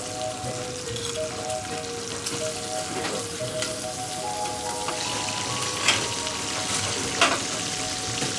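Chicken livers fry in a hot pan with a dense, steady sizzle and crackle close by, broken by a few louder spatters and stirring scrapes, while a soft tonal hum runs underneath.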